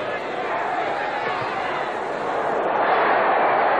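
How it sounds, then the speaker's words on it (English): A football stadium crowd roars in a broad, steady wash of cheering and chatter during a kickoff in an afternoon Ottawa Rough Riders game, swelling slightly louder toward the end. "this crowd is starting to come alive"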